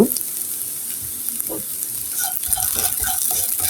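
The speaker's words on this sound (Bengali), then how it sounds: "এখন আমি এটি ভালো করে সুন্দর করে নেড়ে চেড়ে নেব" Vermicelli (semai) frying in a pan with powdered milk, stirred with a utensil: a steady sizzle under several scraping strokes, close and fairly loud.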